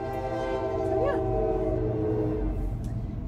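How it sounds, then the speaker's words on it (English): A train sounds its horn in the distance, a steady harmonic tone with a slight pitch bend, over a low rumble of rail traffic. "Do you hear the train?"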